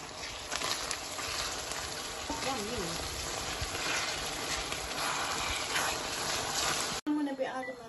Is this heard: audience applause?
no